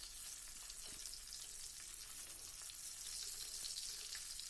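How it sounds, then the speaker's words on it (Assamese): Fish fries in a wok with a soft, steady sizzle and occasional small crackles, quiet and close with no voices. "এইখিনি মাছখিনি এনেকৈ মই ভাজি আছোঁ।"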